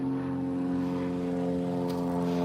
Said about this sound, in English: I hear an aeroplane, but I don't see it.